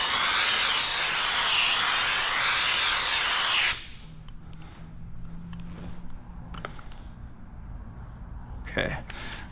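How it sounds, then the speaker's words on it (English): A handheld steamer hisses loudly and steadily for a few seconds while heating motorcycle paint protection film on a Harley-Davidson, then cuts off, leaving faint handling noises and a short clatter. "now I need the steamer"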